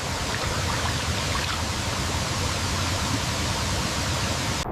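Steady rushing of fresh, cold stream water flowing outdoors in Nepal, a continuous broadband wash that stays loud and unbroken throughout, with no voices.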